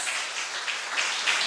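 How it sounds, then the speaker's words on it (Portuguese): A church congregation at a family worship service applauds, a steady patter of many hands clapping together at an even, moderate level. "Vamos aplaudir mais a esse Deus maravilhoso?"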